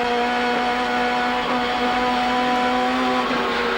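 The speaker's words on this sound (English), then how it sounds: "You can hear the Commodore to his right-hand side." A Holden Commodore touring car engine drones steadily at high revs during a 1990 ATCC race at Symmons Plains, with several cars running close together, a continuous loud tone holding through the whole stretch.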